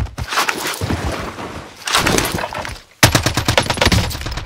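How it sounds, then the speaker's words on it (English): Call of Duty Warzone gunfire crackles in loud, rapid automatic bursts, breaks off for a moment, then resumes as a dense fast volley. "Who the fuck is shooting me?"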